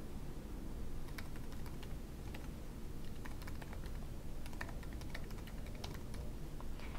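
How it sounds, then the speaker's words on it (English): A username typed on a Mac computer keyboard, a continuous run of close, quick key clicks with uneven rhythm over a low background hiss. "So let's just type that in here."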